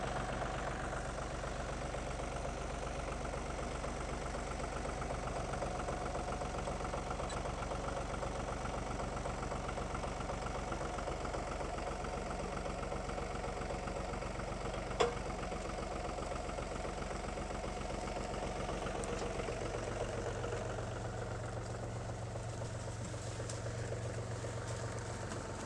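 A 1948 Ford 8N tractor, pulled out after sitting unused for years, idles with a steady low engine rumble and knocking, faint and continuous, with a single sharp click midway and a slight shift in tone near the end.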